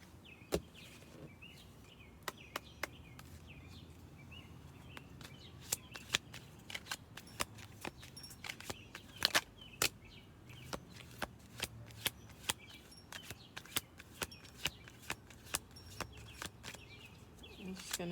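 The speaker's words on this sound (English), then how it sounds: "I'm just going to do one more shuffle through." A deck of cards is shuffled over and over, with sharp riffling snaps and soft flicks in uneven bursts, close and quiet in a still room.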